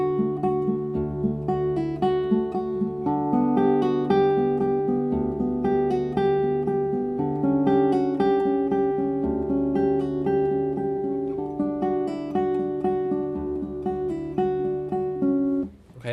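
A classical guitar plays a lyrical etude passage alone, with steady plucked notes and sustained bass tones running continuously for about sixteen seconds at a moderate level.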